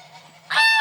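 A young goose among a small backyard flock of geese gives one loud, harmonic honk that swells in after a half-second of quiet low murmuring, close by.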